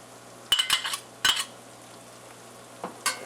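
Paprika and garlic stirred into a frying pan while cooking chicken paprikash, a low steady sizzle broken by a few sharp scrapes and clinks of the spoon against the pan.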